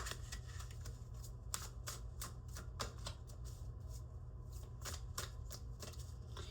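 A deck of oracle cards is shuffled by hand, quiet repeated riffling flutters in an uneven rhythm, close but soft over a low background hum.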